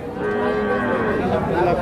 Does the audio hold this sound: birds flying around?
no